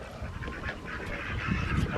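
Ducks in a farm feeder pen give soft quacks and honking calls amid low rustling, fairly quiet and close, with no one talking.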